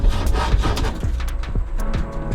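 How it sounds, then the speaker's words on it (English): A tool worked back and forth through the glued-in window of a car, making a rough rhythmic scraping and grating with knocks and creaks, loud and close. "Maybe we'll do less of a sawing motion this time."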